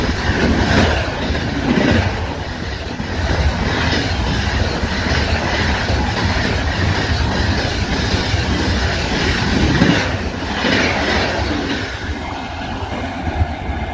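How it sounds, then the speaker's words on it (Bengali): The Kolkata–Jammu Tawi Superfast Express, train 13151, rushes past at high speed, a loud, sustained roar of wheels on rail with rhythmic clickety-clack and faint squeal, close and unbroken throughout. "চলে আসছে train number 13151 Kolkata জম্বুতাই superfast express"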